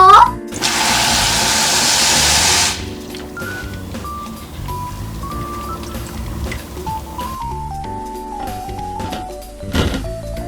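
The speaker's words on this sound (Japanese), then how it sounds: "次はいちごを洗うよ。" Strawberries being rinsed under a running kitchen tap, with a loud steady gush of water for a couple of seconds, then quieter handling sounds and a melody playing underneath.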